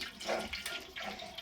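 Starchy water poured off cooked rice, a brief close rush of flowing, splashing water with no talk.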